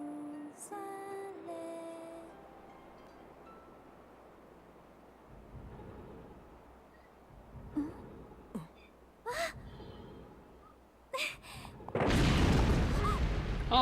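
An explosion in the Wii game Zelda Skyward Sword ends the passage as a sudden, loud, booming blast, after quieter game sounds, chimes and scattered thuds.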